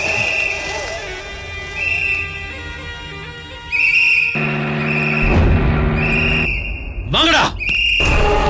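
Sharp, shrill whistles repeat several times amid a dramatic Tamil TV serial scene, with loud musical stings and background noise around them.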